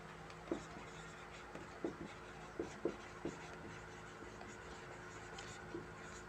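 Writing on a board during a physics class, with sparse soft taps and short scratchy strokes at irregular intervals over a steady room hum, fairly faint.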